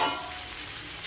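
Andhra-style spicy chicken pieces frying in a pan, a steady close hiss of sizzling oil that holds evenly throughout with no talking.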